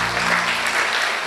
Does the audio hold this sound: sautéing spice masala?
no